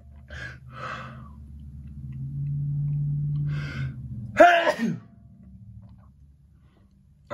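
One loud, abrupt sneeze bursts out close to the microphone after a few seconds of quiet breathing and soft background tones, then fades back to near silence.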